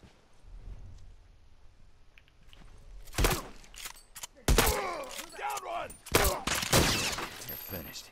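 Bursts of gunfire and impacts in The Last of Us multiplayer, quiet at first and then a run of loud cracking shots and clattering hits over the last few seconds, with voices in the mix.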